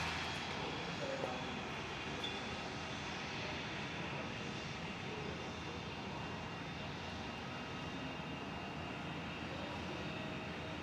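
Qantas airliner landing on runway 21 at Perth airport, a continuous broad engine roar at steady moderate loudness, heard at a distance without talk.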